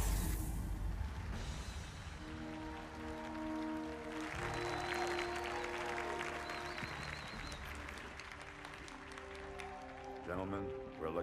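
A crowd applauds throughout a Halo 2 Anniversary cutscene, a steady wash of clapping under sustained music chords, with voices and a brief louder burst near the end.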